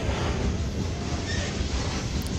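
A train rumbles steadily past, a dense low roar with faint rail noise and no voices, holding constant loudness throughout.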